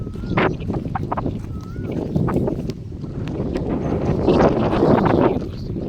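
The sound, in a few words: wind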